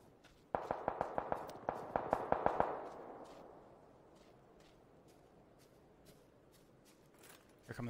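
Rapid volley of sharp gunshots from a player firing in a video game, about a dozen cracks in quick succession over two seconds, then a quieter stretch with scattered faint pops and distant shots.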